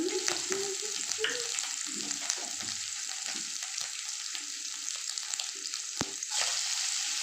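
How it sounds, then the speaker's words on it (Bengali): Chopped coconut fries in hot oil and ghee in a pan, a steady bright sizzle with intermittent stirring scrapes and one sharp clack, continuous and close. "তেলটাও গরম হয়ে গেছে তেল আর ঘি এর মধ্যে আমি একটু কুচনো নারকোল দিয়ে দেবো"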